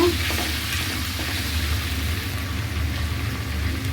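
Garlic paste and ginger paste sizzle and fry steadily in hot oil with cardamom and cloves, a continuous close crackling hiss for a chicken roast, no voices.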